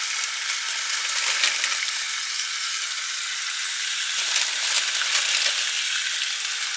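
Skin-on chicken pieces fry in a skillet, giving a continuous close crackling sizzle with slight swells in intensity and no talking.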